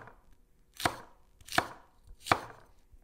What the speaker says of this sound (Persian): بامیه ها رو به این شکل خورد میکنید